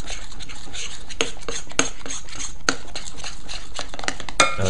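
A spoon stirs a thick, lumpy breakfast mixture in a bowl, scraping and clinking against the sides in a steady rhythm with sharp taps now and then, close and clear with no talking.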